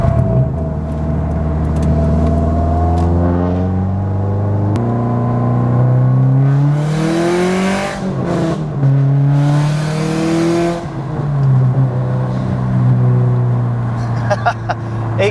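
A 400-wheel-horsepower Subaru STI running E85 with an FP Blue turbo accelerates hard on a freeway. Engine pitch climbs repeatedly through gear changes, and breathy bursts of turbo noise come between shifts, all loud and close.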